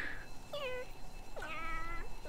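A cat meows twice in drawn-out, wavering calls, close and clear over a steady background hum.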